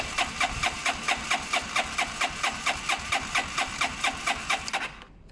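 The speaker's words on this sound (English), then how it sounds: "Let's just see if we can get it to idle." Zontes motorcycle engine cranks over with a rapid, evenly pulsing rhythm, loud and close, then cuts out abruptly near the end without settling into an idle.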